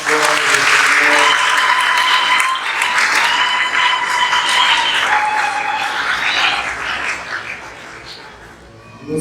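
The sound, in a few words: congregation applauding in church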